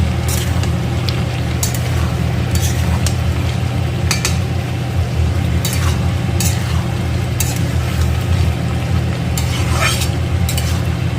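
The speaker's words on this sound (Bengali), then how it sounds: "আর কিছুক্ষণ ভালো করে কিন্তু নাড়াচাড়া করতে হবে" A spoon stirs prawn curry with potato and eggplant in a pan, making repeated scraping strokes over a constant low sizzle, close up and with no talking.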